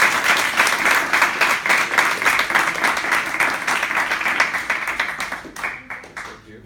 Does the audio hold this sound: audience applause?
yes